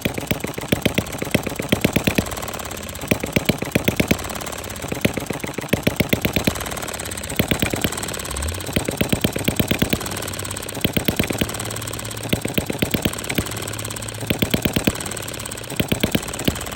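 A small gasoline engine with a siliconed piston top runs on four- or five-year-old canned gas, firing in rapid uneven bursts that stutter and pause, loud and close throughout with no talk.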